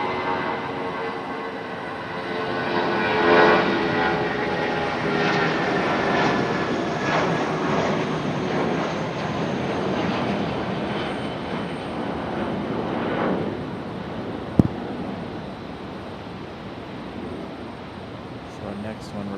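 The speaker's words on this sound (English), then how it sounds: "Republic Airways coming in from Chicago O'Hare. That one, that E175." Republic Airways Embraer E175 jet on approach to RDU Raleigh-Durham airport in stormy weather, a broad roar that swells and fades at a distance, with people talking over it.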